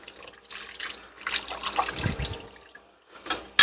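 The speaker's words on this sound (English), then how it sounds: "I'm just going to pour this right over the chicken" Teriyaki sauce pours over chicken in a slow cooker crock, a liquid splash and glug peaking midway, close and moderately loud, with quieter handling sounds around it and a brief clatter at the end.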